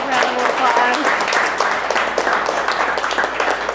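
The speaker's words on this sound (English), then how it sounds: "them a huge round of applause" An audience gives a round of applause, a steady, full clapping that carries voices talking and cheering over it.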